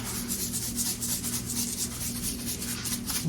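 Hands rub kosher salt over potatoes in a pan, giving a steady, close gritty scrubbing and rustling that runs continuously without pause and with no talk.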